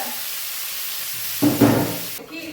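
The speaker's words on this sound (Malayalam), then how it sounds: "അമ്മയുടെ ഈ കാണുന്ന മീനിൻ്റെ തലയൊന്ന് ഫ്രൈ ചെയ്തെടുക്കാൻ പോവാണേ" A fish head fries in a little oil, giving a steady close hiss that swells with louder crackling for a moment before dropping away.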